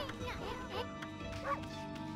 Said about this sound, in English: Nah, I can bark.